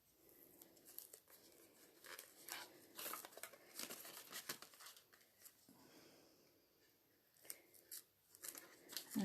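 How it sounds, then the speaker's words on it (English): Scissors snip through card in a run of short, quiet cuts following a curved edge, with faint paper crinkling between the snips and no talking. "so just snip those on the curve that it should be"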